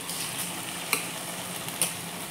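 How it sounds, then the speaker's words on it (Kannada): Soaked rice stirred into a sizzling tempering for vangibath, a steady close sizzle with two sharp scraping clicks from the stirring. "ಅಕ್ಕಿ ಹಾಕೊಂಡಾದ್ಮೇಲೆ ಸ್ವಲ್ಪ ಮಿಕ್ಸ್ ಮಾಡ್ಕೋತೀನಿ."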